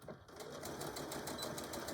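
A sewing machine stitching back and forth on a fabric tool bag, a fast steady mechanical whir with rapid needle ticking, fairly faint and close.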